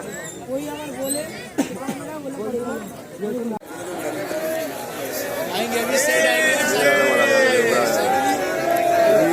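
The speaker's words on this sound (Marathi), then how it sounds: "खूप जास्त प्रमाणात गर्दी आहे." Dense crowd at Nidhivan in Vrindavan: constant overlapping chatter close around, swelling into louder calling and voices in the second half, with a nearby person speaking over the din.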